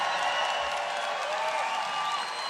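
A large crowd cheers and applauds at a political rally in Tucson, Arizona, a dense steady roar of clapping and shouting that fills the whole stretch at high level.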